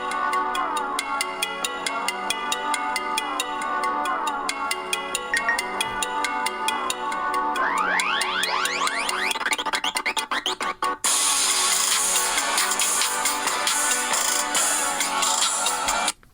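A song plays through a Samsung Galaxy S22 Ultra's built-in speaker, a loud rhythmic electronic track with rising sweeps before a sudden, denser bass drop.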